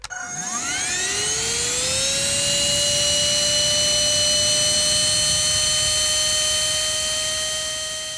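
An Oraimo Ultracleaner H2 handheld vacuum cleaner switches on and its motor spins up to a loud, steady high-pitched whine with a rushing airflow roar, running close and alone.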